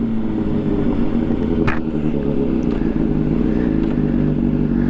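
A motorcycle fitted with a full Toce exhaust and an ECU flash idles high and steady, a loud close rumbling drone with a brief blip partway through and no talking.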